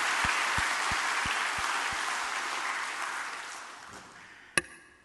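A church congregation applauds in thanks at an autumn revival meeting's early-morning service. The steady, dense clapping fills the room, with a soft regular thumping beneath it, and fades toward the end before one sharp knock.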